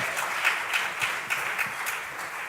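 Many hands clap together at an official launch event in Lagos, a continuous moderately loud applause with slight rhythmic swells.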